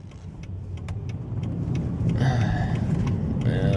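Car traffic passing on a road, a steady engine rumble that builds and grows louder midway, with no talking.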